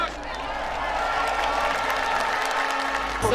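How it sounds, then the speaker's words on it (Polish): A large outdoor crowd at a political march breaks into dense, continuous applause for Szymon Hołownia, loud and close, with cheering voices mixed in before a sharp swell at the end. "brawa dla Szymona Hołowni raz jeszcze"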